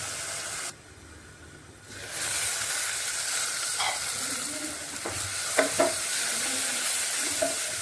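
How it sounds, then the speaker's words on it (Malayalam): Onions sautéing in a hot pan while cooking chicken roast, a steady close sizzle broken by a brief quiet gap and a few sharp stirring clinks and scrapes. "സവാള നന്നായി വാടി വെച്ചിട്ടാം"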